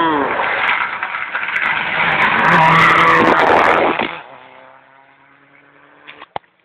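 A Mitsubishi rally car roars past at a rally stage near Praid, loud and close, with a screaming engine and tire noise that fade quickly after the pass, followed by a few sharp clicks and faint voices nearby.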